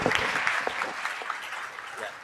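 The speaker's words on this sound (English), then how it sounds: "let's give a round of applause to Dumale sir" Audience applause at a live medical college debate event, a dense steady patter of many hands clapping together, fairly loud and sustained, with faint voices mixed in.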